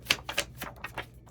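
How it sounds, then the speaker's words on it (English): Tarot cards being shuffled by hand, a quick run of soft papery riffs and snaps, about six crisp flutters in close succession at close range with no talking. "Last shuffle."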